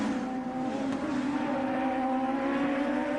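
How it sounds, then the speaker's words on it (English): Champ Car race cars at Road America in 2004 accelerate up the hill out of turn 5, a steady loud engine drone with sustained tonal whine and broadband roar throughout, no voices. "Bourdais, Carpentier, one of the MyJack cars, as they hit turn 5 and accelerate up the hill"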